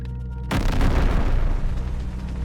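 Explosion sound effect for a documentary on the 1258 siege of Baghdad, a sudden heavy blast that erupts and rumbles on as a dense roar for about two seconds.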